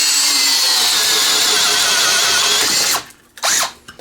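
A Teccpo cordless 12-inch brushed four-pole drill runs steadily at high speed for about three seconds with a loud whirring motor, then stops, gives one short burst and falls silent.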